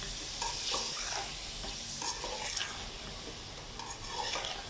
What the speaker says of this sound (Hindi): अब मैं ये सारे स्पाइसेस डाल दूँगी, इसको हम मिक्स करेंगे